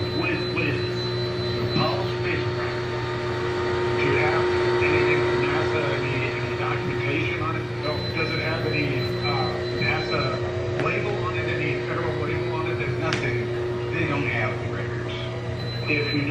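A Bissell Spinwave powered floor mop runs with a steady motor hum and whine, continuous and moderately loud, with faint scrubbing and clatter over it.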